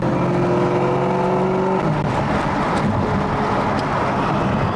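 A dyno-tuned Chevrolet Camaro ZL1 running on ethanol accelerates hard onto a freeway, its engine note rising loudly before settling into a roaring cruise with wind noise, no talking.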